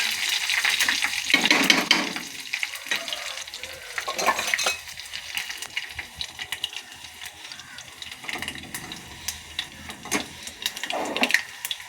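Curry leaves and dried red chilies crackle and sizzle in hot oil for a gonguura chicken curry, a steady close frying hiss with a few louder spattering bursts and stirring scrapes.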